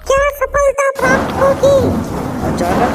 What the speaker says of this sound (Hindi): अचानक से बिजली कड़कती है।